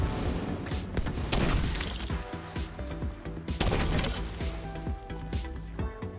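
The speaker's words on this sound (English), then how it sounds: "start shooting more of the oxidizers" Gunfire in The Division 2 as oxidizers are shot, loud bursts of rapid shots with heavy mechanical clatter and booming impacts, arriving in two dense volleys with brief pauses between them.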